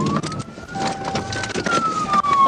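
A police car siren wails with a sweeping electronic tone during a pursuit stop, loud and close, running the whole time over road and engine noise.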